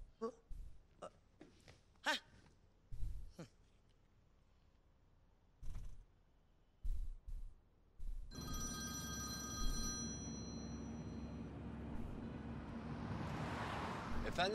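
A mobile phone rings indoors, its ringtone starting midway and carrying on steadily to the end, after a stretch of brief, scattered speech and small sounds.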